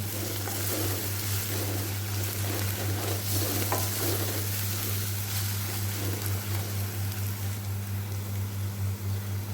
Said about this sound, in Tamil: அதையும் போட்டு மிக்ஸ் பண்ணிவிட்டு கொஞ்சம் நேரம் அதை வேக விட்டுடலாம்.